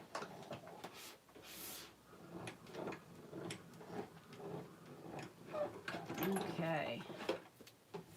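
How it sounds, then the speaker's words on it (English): A greeting card is cranked through a Stampin' Cut and Emboss machine inside an embossing folder, producing soft, quick mechanical clicks and ticks close by, with a person talking over and between them. "if we run it through the embossing folder, through my Stampin' Cut and Emboss machine"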